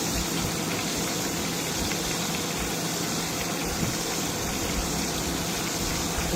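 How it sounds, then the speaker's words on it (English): A wet dough ball drops into hot grease to fry alongside the day's catch, giving a constant dense sizzling hiss that stays even and unbroken throughout. "Just get your little dough ball, kind of the wet, and drop it right down in your grease."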